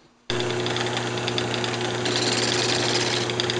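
A wood lathe spins while a parting tool cuts off a turned mushroom box from its waste block, giving a loud, steady whirring drone with a constant hum and a gritty cutting rasp that starts abruptly and runs without pause.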